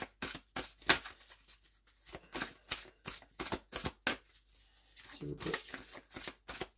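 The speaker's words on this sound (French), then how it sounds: "on va aller chercher 6 cartes" Oracle cards are shuffled in a quiet room, with a series of short, soft riffling bursts in an uneven rhythm while a person speaks quietly over them.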